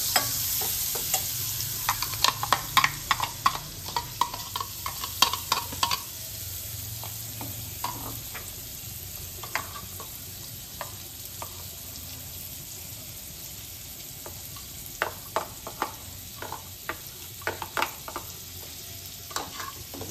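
Chopped garlic sizzles softly in melted butter over low heat, with a quiet, even fry broken by sharp clicks and scrapes as a utensil stirs the pan.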